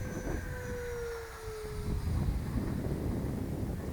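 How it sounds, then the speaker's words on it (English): A FreeWing Stinger 90 RC jet with a 10S EDF makes a full-throttle pass, a thin high whine sliding downward in pitch as it goes by, followed by a broad, rushing roar that stays fairly faint and distant. "That was a full throttle pass by I did."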